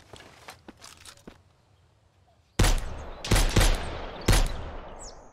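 Several loud, sharp gunshots fired at a bandit in the video game Mist Survival, coming as a quick cluster of close reports after a stretch of quiet footsteps and small movement sounds.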